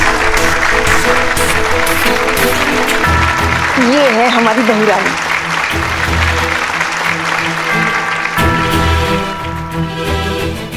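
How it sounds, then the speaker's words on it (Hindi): Audience applause on the set of a Hindi police comedy series, clapping mixed with music and voices, continuing throughout under someone speaking. "जोरदार तालियां हो जाए"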